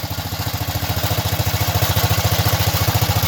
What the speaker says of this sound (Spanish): Y ya están escuchando el motor, ¿verdad?